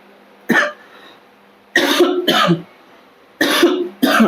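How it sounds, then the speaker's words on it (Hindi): Several harsh coughs in close succession, loud and near, separated by short silent pauses, with no talking. "बोलने से खांसी और ज़्यादा हो रही है।"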